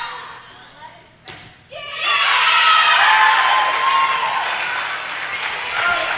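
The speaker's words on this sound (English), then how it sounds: "10 sleep crowd starting to get fired up" The Ten Sleep crowd at a high school varsity volleyball match against Meeteetse breaks into loud cheering and shouting after a brief quiet moment and a thud. The roar swells quickly and stays sustained, with young voices prominent.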